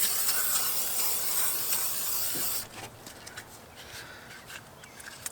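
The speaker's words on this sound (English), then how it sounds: "I'm gonna hit it with some WD-40 and get her all cleaned out in here." WD-40 sprayed into a 1974 John Deere 400JD vintage snowmobile to clean it, a loud steady aerosol hiss for a few seconds, then softer short bursts of spray.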